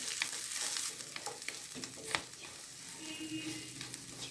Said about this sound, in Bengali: আর পেঁয়াজ একটু ভেজে নেব